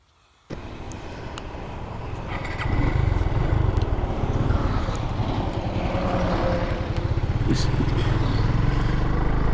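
A Suzuki Gixxer motorcycle starts up abruptly and is ridden on a highway, its engine rumble building and then holding a loud, steady drone with wind buffeting the microphone.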